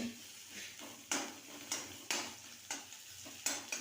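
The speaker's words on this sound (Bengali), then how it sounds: "এখানে পেঁয়াজটা ভাজা হচ্ছে" Onion frying in a pan, a soft sizzle with regular scraping strokes of a spatula about every half second, close and fairly quiet.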